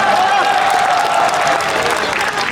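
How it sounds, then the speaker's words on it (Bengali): Sustained audience applause fills a college tech-fest felicitation at CIT Uluberia's Techstacy 2023, dense and continuous from start to finish with a faint steady tone running beneath the clapping. "তার জন্য একটা জোরে হাততালি।"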